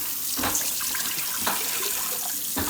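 Water running and splashing steadily into the metal insert of an Instant Pot pressure cooker, a continuous close-up pour with brief louder gushes, no talking.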